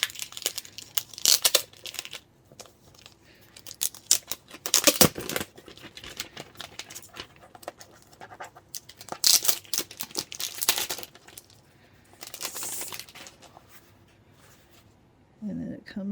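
Overall plastic sheath being pulled off an XP-PEN Artist 12 drawing tablet, bursts of close crinkling and rustling plastic separated by pauses, with some talking over it.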